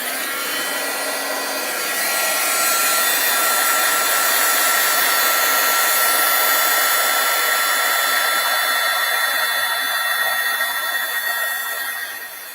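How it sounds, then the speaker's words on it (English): Heat tool blowing hot air to melt Brutus Monroe Pearl embossing powder, a loud steady fan whir and hiss that swells slightly and holds, running alone without talk. "you can see we heat emboss that whole image and it's a solid embossing"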